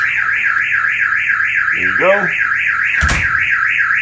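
A Kerui wireless home alarm system siren, set off by opening a door, wails loud and steady with a rapidly warbling tone. A brief voice and a sharp knock or click come through over it.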